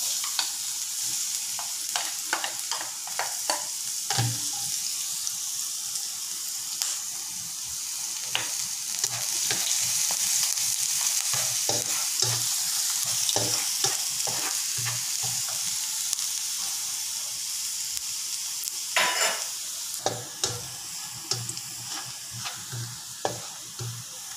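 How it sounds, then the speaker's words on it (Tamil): Garlic sizzles steadily in hot oil for stir-fried kuey teow, flat rice noodles, with a continuous frying hiss broken by repeated scraping stirs of a spatula, close and fairly loud throughout. "எண்ணெய் கொஞ்சம் ஊற்றிக்கலாம். இப்போ பூண்டை போடுவோம்."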